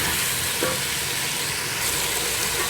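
Chicken pieces with salt and everyday spices fry in a pan with a dense, continuous sizzle, loud and close throughout, and no one speaking.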